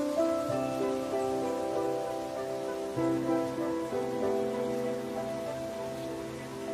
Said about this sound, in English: For the babies, the downpour is something entirely new.